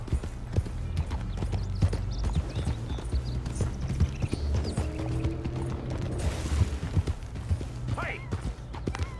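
A black-and-white horse in Red Dead Redemption 2 makes a rapid, continuous clip-clop of hooves over a low rumbling game backdrop, with character voices talking over it and a short bright burst near the end.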